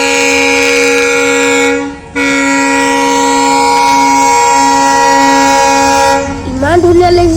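Lachit Express passenger train sounding a loud, sustained horn up close, one long steady blast broken by a brief pause, then a second blast rising in pitch as the train rushes past with rumbling wheels.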